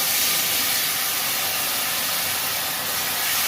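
Water poured into a hot pan of taro curry with small fish and vegetables sets off a steady, loud hiss of steam and sizzle that holds evenly throughout.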